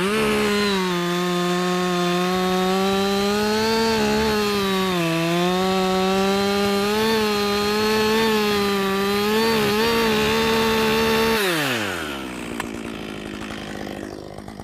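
A chainsaw runs loud and close at steady high revs while cutting into a tree being felled, wood and bar under load, then the engine drops sharply near the end and idles down as the cut finishes.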